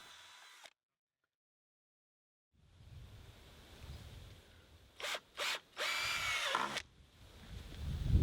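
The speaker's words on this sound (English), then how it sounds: "These I screw to the metal struts of the framework of the IBC." Power screwdriver driving screws into the metal struts of an IBC tote frame for a wicking garden bed: three close, loud whirring bursts, the last one longest, after a quiet stretch of outdoor background.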